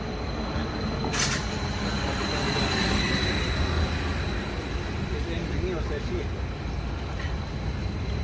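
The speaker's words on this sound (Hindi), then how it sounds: "हमारी ट्रेन आ रही है।" Train pulling into a platform at Oslo Central Station, a steady loud rumble of rolling cars with a brief high squeal early on, while people talk nearby.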